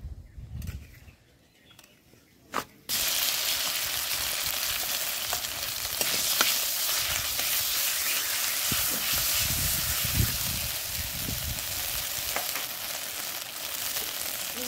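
Spice paste hitting hot mustard oil in a wok with fried black cumin, bursting into a loud, steady sizzle after a quiet start and holding strong with occasional crackles.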